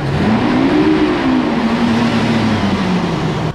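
A six-cylinder truck engine accelerates, its rising then gradually easing tone droning loud and steady close by for the whole stretch, with no voices over it.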